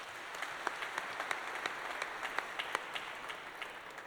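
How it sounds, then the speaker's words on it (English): Faint, distant audience applause at an Armed Forces Day music evening, a steady patter of many hands clapping with a few sharper individual claps. "Big round of applause to them"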